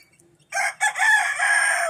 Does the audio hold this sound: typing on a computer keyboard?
no